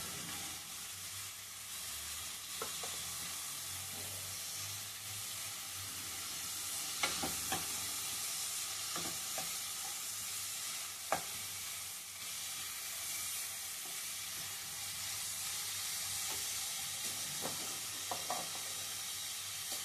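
Onions sizzle and fry steadily in a pan while a curry of pindi kommalu is cooked, with a constant hiss and occasional stirring clinks and scrapes scattered through.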